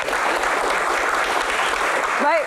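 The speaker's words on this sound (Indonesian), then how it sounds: "Tepuk tangan untuk Pak Menteri" Audience applause for an Indonesian government minister at a public talk, a dense steady wash of clapping from a crowd, loud and close, with a brief voice rising at the very end.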